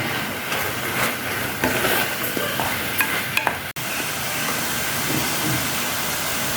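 Masala and minced meat being stirred as they fry in a pan, with a steady sizzling hiss, scattered scraping clicks from the spoon, and a brief dropout midway.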